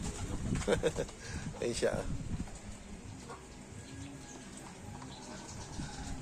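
Pigeons coo in low murmuring bursts near the start, close by, while someone talks over them and the later part settles into quieter background murmur.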